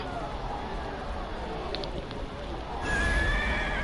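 A horse in the video game Neverwinter whinnies over a steady wash of background noise, the call rising near the end of the clip.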